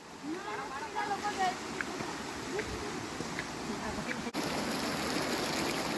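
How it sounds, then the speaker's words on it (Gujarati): Water trickles in a thin sheet over a small check dam at a monsoon picnic spot near Vadodara, a steady, close rushing wash with faint voices in the first seconds. "વચ્ચે એક નાનું આ ચેકડેમ જેવું છે અને એની ઉપરથી થોડું થોડું પાણી જાય છે"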